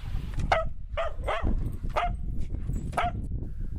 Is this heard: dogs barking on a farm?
yes